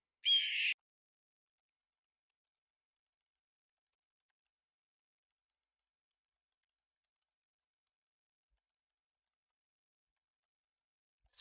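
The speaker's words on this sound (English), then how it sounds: "Red-tailed hawk." A red-tailed hawk call in the Nancy Drew game: a single short, high, harsh cry lasting under a second, alone and clear, followed by long silence.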